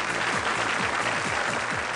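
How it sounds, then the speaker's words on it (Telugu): An audience at a stage performance claps, dense and steady applause from many hands throughout, close and loud, with no voices standing out. "On that note please clap for them."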